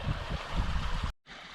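Backyard pool waterfalls pour steadily while the pool drains, giving a loud, continuous close-up splashing rush that cuts out abruptly near the end and then resumes.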